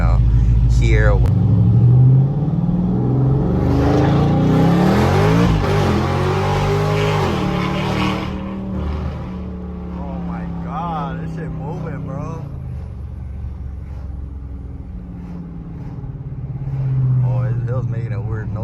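Supercharged RT car engine revving through light acceleration pulls, a loud rising and falling roar heard up close with a person talking over parts of it.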